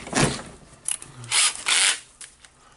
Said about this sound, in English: I'll try to unscrew it with the drill.